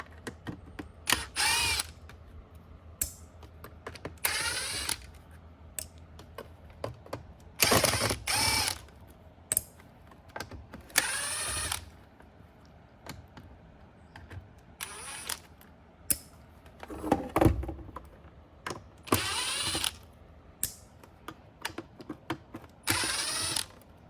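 A power driver pulls Torx T15 screws from a Shark Lift-Away Zero-M vacuum during a repair, in repeated short whirring bursts with ratcheting clicks and handling noise between them, close up and with no speech.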